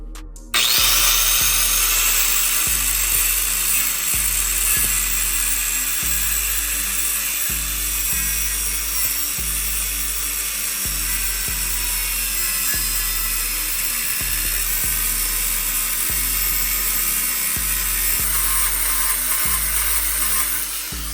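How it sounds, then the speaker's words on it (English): A power drill grinds steadily through the Mustang's clutch bolts during a clutch upgrade, a loud, close, sustained whine with a regular low pulsing rhythm running for about twenty seconds with no talking. "And just like so, we got everything drilled out."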